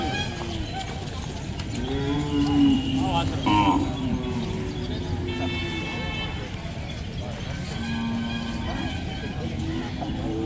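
Calves moo repeatedly amid the noisy bustle of a bullock and cattle market in Chalisgaon, with people talking in the background.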